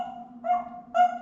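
A pet bird mimics a dog's bark, giving two short, clear bark-like calls over a steady, faint tonal background.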